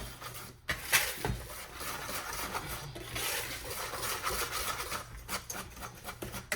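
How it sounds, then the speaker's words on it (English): Dry ingredients, including clumpy allulose, whisked briskly in a bowl with a wire whisk, giving a steady close scraping rasp that runs continuously with brief pauses and no talk. "just giving it a quick whisk with a whisk is actually the best way to get those all together"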